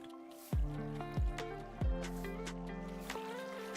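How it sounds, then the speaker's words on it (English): Water bucket refilling in a blocky survival video game: three short watery plops, one after another at steady intervals, each with a low splash, over a faint steady background bed with no talking. "I actually want to refill our water buckets."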